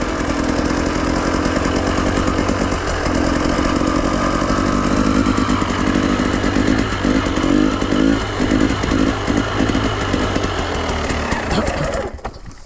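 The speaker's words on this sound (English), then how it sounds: "Start the bike, make it in the first gear, and try to make the circles" An enduro motorcycle in first gear circles steadily, its engine a loud, continuous buzzing drone that rises and falls slightly as it turns, cutting off abruptly near the end.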